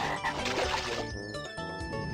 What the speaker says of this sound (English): Got a frog in this room to take out.